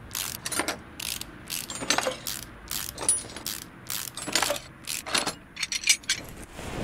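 Ratcheting wrenches and clanking metal parts as a turbocharger is taken apart in the Car Mechanic Simulator 2018 game, a steady series of quick clicks and rattles in close, repeated bursts with no talking.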